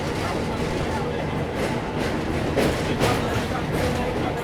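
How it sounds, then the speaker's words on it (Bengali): A train rumbles across a bridge over the Rupnarayan River on the Howrah to Kharagpur line, a loud continuous roar with faint rhythmic clatter. "ওই পাশের ব্রিজ থেকে একটা ট্রেন যাচ্ছে, এই দেখো"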